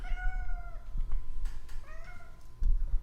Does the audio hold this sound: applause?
no